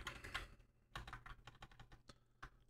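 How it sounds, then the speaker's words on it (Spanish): Quick bursts of typing on a computer keyboard, loud and close, with irregular clusters of key clicks and short pauses between them and no talk. "Anda, que se me va aquí el teclado"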